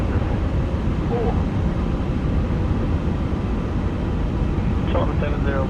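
A Qatar Airways A350 takes off in Microsoft Flight Simulator with a steady, loud low engine roar and rumble throughout, while a voice speaks faintly in the background.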